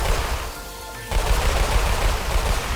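A custom weapon in the Roblox game Weird Gun Game fires in bursts: a brief pause near the start, then loud, dense rapid gunfire running continuously to the end.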